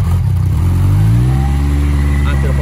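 Yamaha XJR 1300 Cafe Racer motorcycle engine turns over and catches, its loud, steady low idle rising slightly in pitch as it settles.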